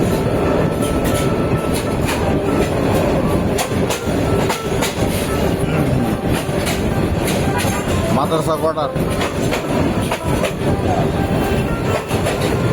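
A train rolls through a curve near Shantipara bazaar in Dhaka, Bangladesh, with a loud, continuous close rumble and rhythmic clickety-clack of wheels on rails, while someone speaks briefly over it.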